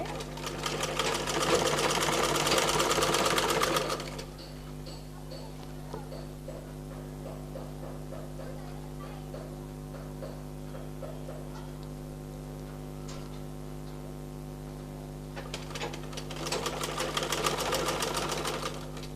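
An electric sewing machine stitches the neck band of a nighty in two loud, steady bursts, one at the start and one near the end, with a quieter stretch of handling and faint talk between them.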